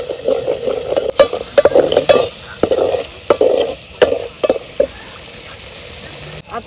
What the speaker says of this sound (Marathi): लसूण चांगला तळून घेतला बघा आईने